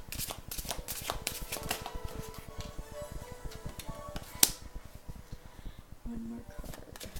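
Oracle cards shuffled by hand, a string of quick riffling flutters and soft slaps up close, irregular and fairly quiet, with a sharp snap partway through and a brief voice near the end.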